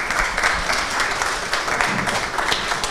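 An audience at a French-language round-table panel applauds, a dense, steady wash of many hands clapping that fills the room for a few seconds with no speech over it.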